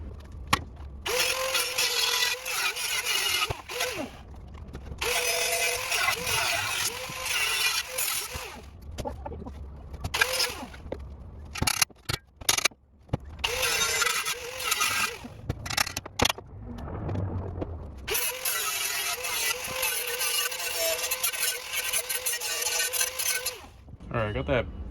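An angle grinder cuts through a muffler mount on a 2000 Honda Civic EX, a loud continuous grinding whine in long stretches broken by a few brief pauses and clattering interruptions.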